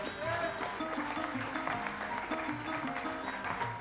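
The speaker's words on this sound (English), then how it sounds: "May we have a round of applause, please?" Audience applause at a Rotary award ceremony in an auditorium hall, steady clapping throughout with faint background voices and music underneath.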